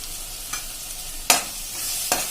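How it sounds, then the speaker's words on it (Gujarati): Gravy masala sautéing in oil for a Punjabi potato and capsicum curry, a steady close sizzle broken by three sharp scraping stirs of a spoon against the pan. "તમે જોઈ શકો છો આપણી આ ગ્રેવી એકદમ સરસ તેલમાં સોતે થઈ ગઈ છે."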